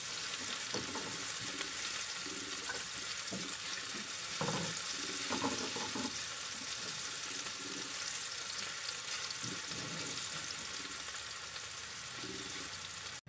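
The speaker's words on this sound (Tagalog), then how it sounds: "Nilagay ko lang yung garlic, then sibuyas," Garlic and onion fry in a pan for scrambled eggs, giving a steady, fairly loud sizzle that runs throughout, with occasional soft stirring and scraping knocks over the hiss.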